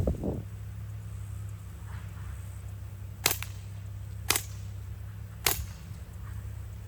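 An Umarex Strike Force BB pistol fitted with a holographic sight fires at a target: three sharp, loud snaps about a second apart over a steady low hum.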